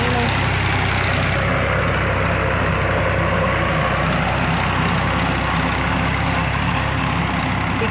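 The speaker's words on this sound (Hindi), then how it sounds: "ट्रैक्टर झाल पा रहे है" A tractor engine runs steadily nearby in a farm setting, a continuous loud low-pitched chugging drone that holds even throughout.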